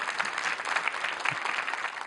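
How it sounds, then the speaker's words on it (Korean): A short burst of steady audience clapping follows a dance performance at a Seosan regional-issues talk event, heard alone without speech. "여러분 다시 한번 박수 부탁드리겠습니다"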